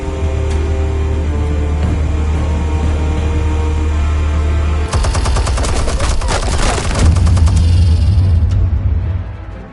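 Explosives and gunfire in Batman: The Telltale Series, with a low engine-like rumble under a burst of rapid, loud automatic gunfire in the middle, followed by deep booming rumble from the explosives.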